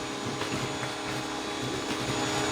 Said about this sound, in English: I'm only using a 1600 PSI pressure washer